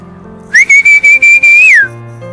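Someone whistles to call pigeons out of their loft on a cold, dim early morning: five quick, loud, close whistled bursts, then one longer sustained note that slides down at the end.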